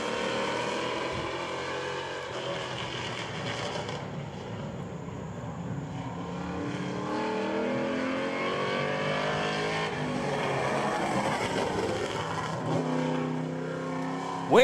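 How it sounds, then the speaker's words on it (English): A junior competitor race car from Nashua, New Hampshire laps the oval at Hudson Speedway. Its engine drones at moderate distance with a rising and falling pitch as it circles, and the sound swells and fades along the lap. "Coming out on the raceway next, junior competitor car number 8 out of Nashua, New Hampshire"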